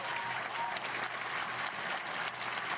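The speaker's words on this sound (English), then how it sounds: "Cheering." A crowd at a SpaceX IPO event applauding and cheering, dense steady clapping with a few shouts, moderately distant.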